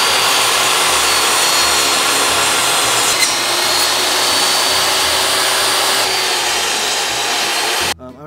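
A power saw cuts wood pieces for a shelf, a loud, steady, close whine running nearly unbroken for about eight seconds and then cutting off abruptly near the end.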